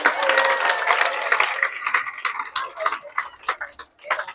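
Students in a school hall clap for a returning former student, with dense broadband applause that is loud at first, then thins into scattered claps with brief pauses and a voice or two over it.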